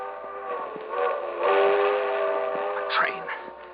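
A train rumbles past with a long, wavering whistle blast that swells loudly, then fades, over the steady clatter of the rails.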